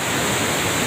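Heavy monsoon waterfall at Osam Hill roars as a dense, steady rush of falling water, loud and close, filling the moment with unbroken broadband hiss.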